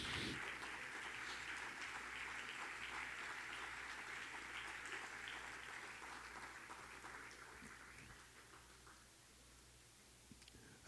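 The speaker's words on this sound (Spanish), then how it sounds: "aplaudimos a Jesús" Church congregation clapping in praise during a worship service, a soft, distant, sustained patter of applause over low background hum that thins out and fades toward the end.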